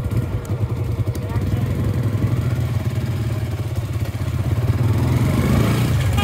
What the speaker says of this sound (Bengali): প্রায় 4টা বাইক যাচ্ছি আমরা, সবাই ভালো রকম টানাটানি করছি